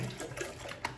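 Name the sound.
water poured into electric kettle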